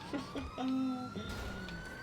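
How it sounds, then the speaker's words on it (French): Ambulance siren wailing in a police patrol video game, a steady rising-and-falling electronic tone that holds through the whole stretch, fairly loud, with a few short game sound effects mixed in. "Oh, c'est encore une ambulance."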